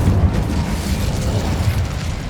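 The Incendio fire spell in Hogwarts Legacy gives a dense, rumbling whoosh of flame, loud and close, holding steady for a couple of seconds with no voices.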